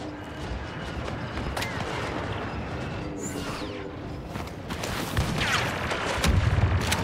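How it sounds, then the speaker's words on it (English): A grenade explodes during a Star Wars shooter battle on Tatooine, heard as loud booms over dense, continuous gunfire and rumbling chaos that swells toward the end. "Grenade deployed."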